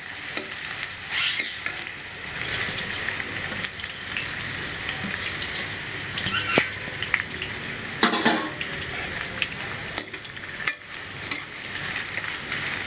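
Onions frying in oil for a crab masala, a steady close sizzle with occasional stirring scrapes and small pops that runs on without any talk.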